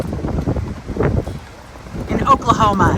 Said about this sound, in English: It's windy out today